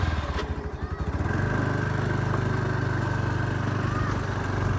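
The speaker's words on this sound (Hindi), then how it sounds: "भाई छोटी सी राइड लेते हैं टीवीएस जुपिटर की," A 2015 TVS Jupiter scooter with 35,000 km on it runs during a short ride, its engine a steady, loud, close drone that rises slightly after the first second and holds without pause.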